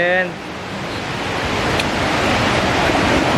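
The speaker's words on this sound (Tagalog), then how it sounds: "Finally, we are here at Bilog Falls at Lagonoy, Camarines Sur." Bilog Falls, a waterfall in Lagonoy, Camarines Sur, gives a steady, broad rushing roar that fills the scene and grows slightly stronger over a few seconds, with no voices over it.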